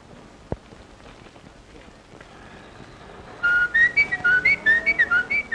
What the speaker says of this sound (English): just blow a few notes of reveille